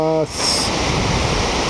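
Ocean surf breaking at Sendai Shinko beach, a steady loud wash of waves under a brief spoken voice at the start.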